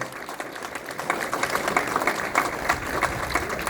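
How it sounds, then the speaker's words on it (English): An audience at a California Governor Gavin Newsom event with Khalsa Affairs gives a round of applause for Nancy O'Malley and Greg Ahern: dense, sustained clapping that grows louder after a second and holds steady, close and filling the room. "A big round of applause, please, for Nancy O'Malley and Greg Ahern"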